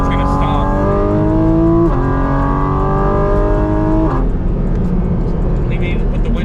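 A Porsche GT4 RS Weissach sports car engine roars loudly from inside the cabin, revving steadily through gear changes with brief dips between pulls, under road noise.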